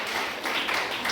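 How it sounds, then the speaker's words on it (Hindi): A group of trainees applauds together in a room, the clapping dense, loud and sustained throughout without any clear talk over it. "तालियां, जोरदार तालियां।"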